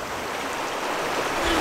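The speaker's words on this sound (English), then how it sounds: "You best get used to the sounds of fresh running water." Fresh running water of the Routeburn River in a New Zealand canyon gives a steady, fairly close rushing hiss that swells slightly toward the end, with no voices.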